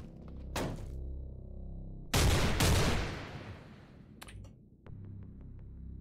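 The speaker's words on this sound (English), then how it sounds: "I need to back up so I get a couple shots on him." Gunshots in Cataclysm DDA, a few sharp, loud bursts separated by quieter stretches: one short crack, then a longer heavy blast with rumbling tail, followed by smaller knocks and a final thump.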